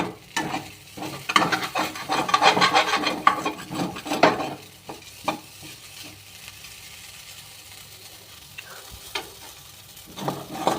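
Idli upma sticking to the bottom of a hot pan being scraped with a metal spatula, repeated rhythmic scraping strokes over a light sizzle, busy at first and then sparser.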